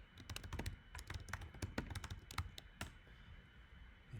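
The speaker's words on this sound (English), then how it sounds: "So I'm going to type something in the chat." Quick keystrokes patter on a computer keyboard, close and fairly quiet, with irregular bursts of taps for about three seconds before trailing off.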